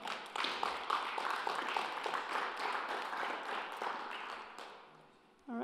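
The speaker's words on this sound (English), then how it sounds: "You should really clap here." Audience applause at a gaming convention panel, a dense sustained wash of many hands clapping that stays steady for several seconds, then thins out and fades near the end.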